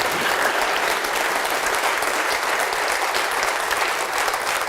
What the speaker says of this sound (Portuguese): vamos aplaudir mais ao nome de Jesus